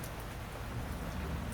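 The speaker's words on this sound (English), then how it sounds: "Listen to the rain for a second." Steady rain beats against window glass during a storm at night in a blackout, a dense, even patter holding close and continuous with no voices.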